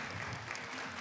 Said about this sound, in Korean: 저희 이준철 변호사님께 다시 한번 박수 부탁드립니다.